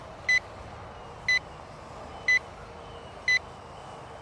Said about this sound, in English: I do like the fact that it beeped at you. The whole time return to home is working.